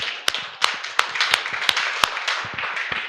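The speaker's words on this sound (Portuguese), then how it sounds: "Palmas ao Senhor." Congregation clapping hands in church during a service, a quick rhythmic patter of many hands with sharp, regularly spaced accented claps standing out, close and moderately loud.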